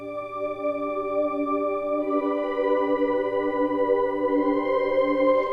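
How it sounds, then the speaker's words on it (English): Dark Atmo, a dark atmospheric keyboard synth pad, holds a steady sustained chord alone, with a low hum beneath and brighter shimmer slowly building toward the end. "And the second pad I use is one called Dark Atmo, and that one sounds something like this."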